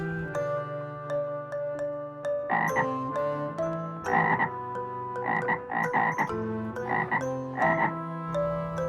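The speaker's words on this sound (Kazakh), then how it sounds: "лягушка." A frog croaks in repeated clustered bursts, loud and close, layered over a soft, steady musical backing of held tones.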